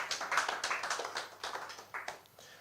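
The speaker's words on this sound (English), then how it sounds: "can we give another round of applause for Mr. Val Ozigbo?" An audience at an app launch event applauds in a steady patter of hand claps. The claps are fairly quiet and fade slightly toward the end.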